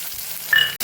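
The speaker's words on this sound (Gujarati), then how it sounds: "આપણે જે સૂકી ડુંગળી સુધારેલી એને વઘાર કરી દઈશું" Chopped dried onion hits hot oil with cumin and mustard seeds for a tempering. A soft, brief sizzle swells for a moment, then cuts off.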